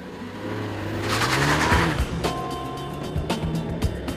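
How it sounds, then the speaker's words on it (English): A Renault Mégane Renault Sport 250 Cup hot hatch with a 2-litre turbocharged 247 bhp engine drives past, its engine note rising and shifting pitch as it accelerates, then settling into a steady drone with a few sharp knocks. "this one has got a 2-litre turbocharged engine with 247 brake horsepower"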